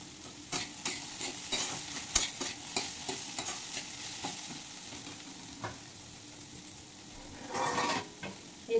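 Split green chillies fry with spices in a hot pan, giving a steady sizzle broken by repeated close scraping stirs and clicks of a spatula.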